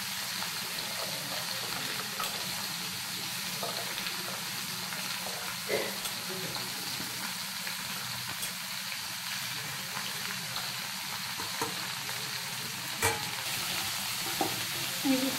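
Chili and pumpkin pieces sizzle and fry steadily in a pan, with a spatula stirring through them at close range; the frying hiss is continuous, with a few scraping stirs standing out.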